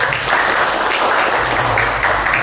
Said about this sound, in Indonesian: 3, 2, 1 ditandai dengan tepuk tangan secara gemuruh